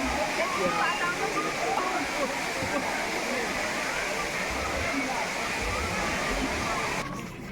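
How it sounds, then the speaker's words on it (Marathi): Muktai waterfall, a scenic tourist spot near Doma in Chimur taluka, pours down in a loud, continuous roaring rush of falling water that stays steady throughout. "या ठिकाणी ह्या सगळ्या धबधब्याचं चित्रीकरण सुरू आहे"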